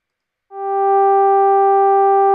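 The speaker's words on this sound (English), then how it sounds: "so I can change that to sawtooth wave" A steady synthesizer sawtooth wave tone switches on abruptly and holds at one pitch, bright and buzzy with strong harmonics, loud and alone.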